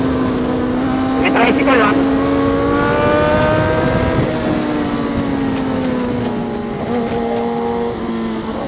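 A motorized tricycle engine hums and drones steadily in city traffic, loud and close throughout, while voices call out and other vehicles rumble nearby.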